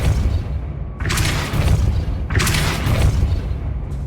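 Depulso spell cast in a Hogwarts video game: two bright whooshing blasts about a second long, roughly a second apart, over a steady low rumbling game ambience.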